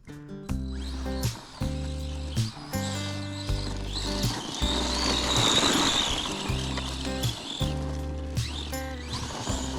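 A ratchet wrench works on wheel nuts with a close, repeated clicking and rasping. It comes in uneven bursts with brief pauses between strokes.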